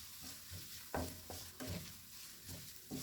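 A spoon stirs a tomato garlic chili sauce in a pan, giving a few soft scraping knocks over a gentle background sizzle, fairly quiet and close.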